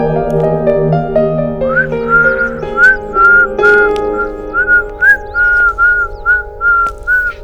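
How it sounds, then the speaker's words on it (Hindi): A person whistling a tune, starting with lower sustained notes and then shifting to a series of short, rising, repeated high chirps in a quick rhythm, close and clear, with no voices. "तुम मुझे बिना देखे ही सीटी मारने लगी।"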